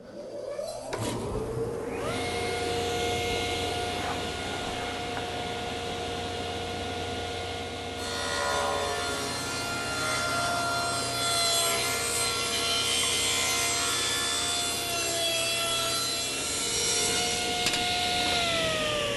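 Table saw rips through 1 3/4 inch thick cherry wood with the dust collector running, a loud, sustained motor whine under a rough grinding cut that ends as the blade pitch sags and winds down.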